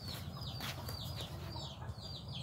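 Baby chicks cheep in a rapid run of high, thin peeps, repeating over a low steady hum at quiet volume.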